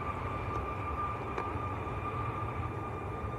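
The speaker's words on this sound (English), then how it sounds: "6 aircraft coming out for departure at the moment." Jet aircraft taxiing out for departure at Manchester Airport, a steady distant engine drone with a persistent whine over broad low rumble, continuous and fairly faint throughout with no talk.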